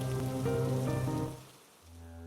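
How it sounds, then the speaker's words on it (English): Steady rain falls as a soft, even hiss under a sustained tonal background, fading briefly before returning. "Watching the rain"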